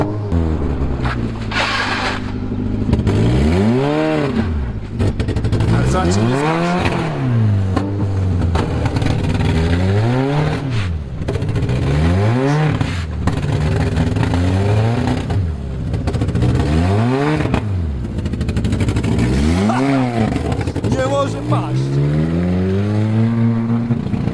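A car engine is driven hard while a group tries to wreck it, revving repeatedly up to high pitch and dropping back in rising and falling waves, loud and close, with a few rattles and knocks between.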